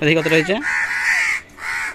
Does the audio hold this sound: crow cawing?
yes